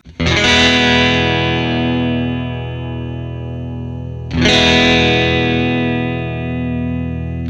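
A bass plays through a Behringer UV300 Ultra Vibrato pedal with the rate turned down. Two long sustained notes, each struck sharply and left ringing, carry a gentle, slow pitch wobble as they fade.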